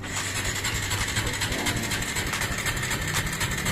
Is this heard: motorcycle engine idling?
yes